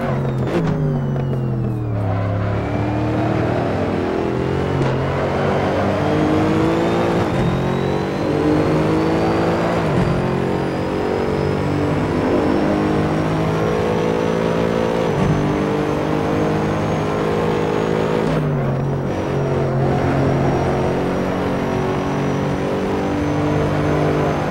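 Mercedes SLS engine in the Assetto Corsa racing game at Silverstone, revving hard and continuously through a fast lap, the pitch climbing and dropping with gear shifts, loud and close with no voices.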